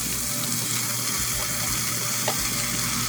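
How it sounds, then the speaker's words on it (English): Golden tomatoes going into a hot pan for a garden tomato sauce, giving a dense, steady sizzle and hiss close up, with a few faint clinks over the frying and no speech. "I'm going to start getting the tomatoes in there"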